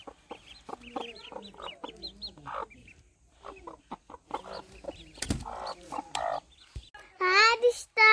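Chickens cluck repeatedly in short, uneven bursts close by, with a louder squawking flurry near the end and people talking faintly in the background.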